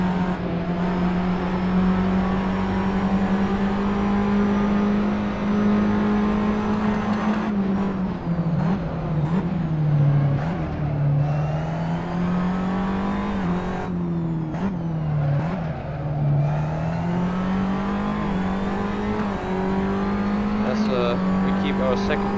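Tatuus open-wheel race cars lapping Silverstone in Assetto Corsa, a steady, high engine drone with shifting pitch as gears change and cars pass, under continuous commentary.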